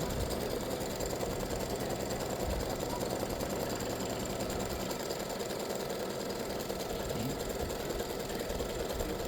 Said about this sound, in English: color stop number 1 stitches this placement stitch